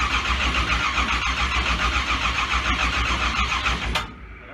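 A race car engine cranks on its first fire attempt without catching, a fault with no spark: a loud, steady, rhythmic starter churn runs about four seconds, then cuts off abruptly with no start.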